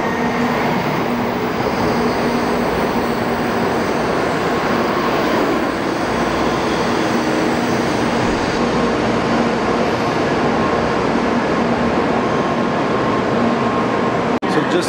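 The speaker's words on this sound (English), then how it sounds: "So you can see the train right behind us." Steady Japanese bullet train rumble with a constant hum, heard from inside or right beside a high-speed rail car in Kobe, loud and continuous throughout.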